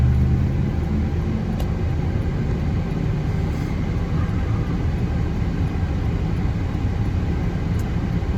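Car driving along, a steady low road rumble and engine hum from inside the cabin, even and continuous with no talking.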